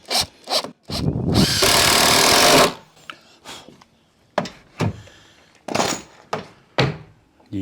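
A power drill drives a sheetrock screw into wood while building a flip-up deck for a vardo gypsy wagon, with a sustained whirring burst followed by several shorter, sharp bursts up close.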